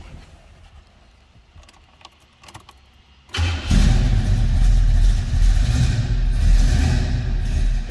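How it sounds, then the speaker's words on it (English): A 1980 Oldsmobile Cutlass Supreme with a mild cam is cranked and fires up after a few seconds of faint clicks and key rattles, then settles into a loud, steady, rumbling idle close by. "We're going to fire it up, let's hear it run too."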